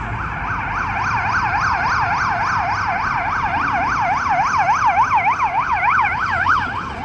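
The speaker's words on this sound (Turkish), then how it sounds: "Buradaki siren sesleri Almanya'dakinden daha kısık sesli." A loud emergency siren wails in a fast, steady up-and-down pattern on a street in Brussels, Belgium, close by, with road noise underneath.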